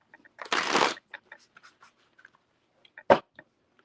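A quick riffle of tarot cards being shuffled, followed by soft scattered card clicks and a second short snap, close and otherwise quiet.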